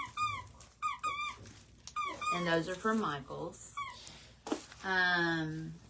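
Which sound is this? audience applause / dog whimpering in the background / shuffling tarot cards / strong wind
dog whimpering in the background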